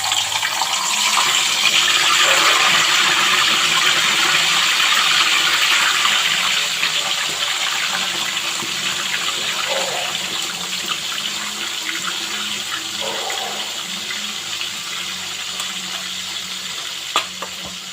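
Tilapia fish sizzles and crackles steadily in hot oil in a pan, a loud continuous frying hiss that slowly eases over time, with a few faint clinks and no talk.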